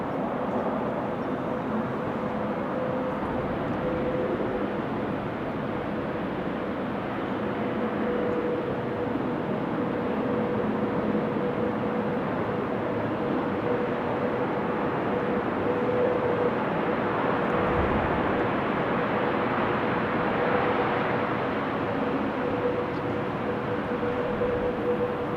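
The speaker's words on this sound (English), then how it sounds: "Sound the mic is picking up on is the Delta A330 that is taxiing away now." Delta Airbus A330 taxiing at Amsterdam Schiphol Airport on a windy, showery day, a steady low engine rumble and hum with a faint tonal whine, continuous and fairly distant.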